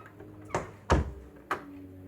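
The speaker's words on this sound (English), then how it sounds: "I'm gonna just close the door." A door closing indoors: a few soft knocks, then a firm thud near the middle, then a last lighter tap. The sounds are close, and the room is otherwise quiet.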